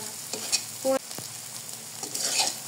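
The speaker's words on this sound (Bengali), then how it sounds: "মশলা ভালো করে কষিয়ে নিয়েছি, দেখুন তেল উঠে গেছে উপরে। দিয়ে দিব তেজপাতা।" Masala paste frying in oil with bay leaves dropped in, a close hiss and sizzle with a few stirring scrapes and clinks, the sizzle swelling toward the end.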